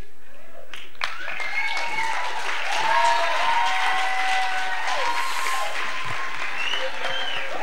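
Audience applause for award-winning poets at a literary fair, steady clapping from a crowd with voices whooping and calling over it at moderate volume.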